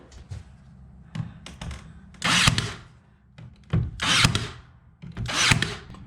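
A power saw cuts a knotty pine window trim piece, with several short bursts of blade noise and tapping handling sounds between them. Each cut rises loudly and then stops.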